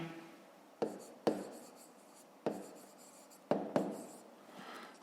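Pen writing a math answer on paper, a series of quick sharp taps and short scratchy strokes at irregular intervals, close and fairly quiet.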